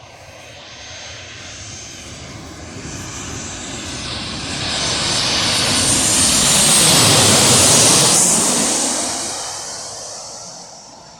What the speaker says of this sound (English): I bet it could be either a 737 or an Airbus A320's aircraft.